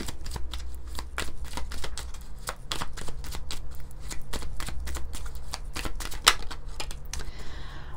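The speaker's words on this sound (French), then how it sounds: "On va prendre un message du petit oracle des anges." Small oracle card deck, petit oracle des anges, shuffled by hand in close, rapid, crisp riffling bursts, a steady run of quick papery snaps with no talking.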